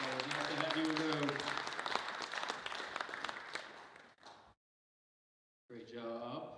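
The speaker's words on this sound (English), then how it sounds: "Let's give Dr. Stafford a big round of applause." Audience applause at a Rotary club meeting, a dense steady clapping that runs for about four seconds, cuts to silence, then resumes briefly with voices mixed in.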